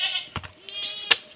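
Goats bleat at close range, a few short wavering calls overlapping within a second or so, with no talk over them.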